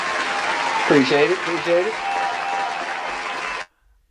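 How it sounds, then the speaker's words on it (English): Sustained applause from a live audience, steady and fairly loud for about three and a half seconds before cutting off, with someone speaking briefly over it. "Let me give you another round of applause."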